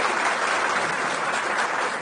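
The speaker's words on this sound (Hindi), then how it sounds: "एक बार जोरदार तालियां भाई सुधांशु जी के लिए" Loud, dense applause from a crowd at a gathering in honour of Sudhanshu Trivedi, steady and unbroken throughout the short stretch with no voices on top.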